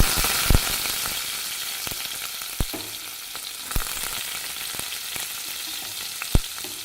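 Fennel seeds and garlic frying in hot oil give a steady bright sizzle throughout, broken by scattered soft pops and occasional stirring clicks.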